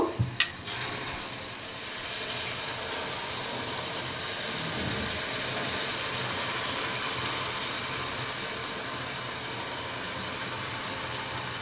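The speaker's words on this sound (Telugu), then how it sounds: "ఇదిగోండి ఉల్లిపాయ ముక్కలు వేయిపోయినాయి కదా ఇప్పుడు ఇందులో శనగపప్పు" Chana dal hits a pan of frying onion pieces for a brinjal curry, with a brief clatter at the start, then a steady, moderately quiet sizzle that carries on with a few faint knocks.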